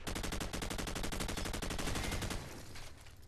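Rapid automatic gunfire in Call of Duty: Modern Warfare team deathmatch, a loud, close, continuous burst of evenly spaced shots that cuts off and leaves a fading tail.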